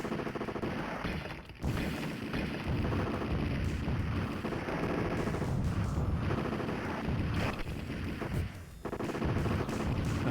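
Gunfire rattles from an arcade shooting game, continuous loud bursts of electronic shots and explosions with a couple of short gaps where the din drops out.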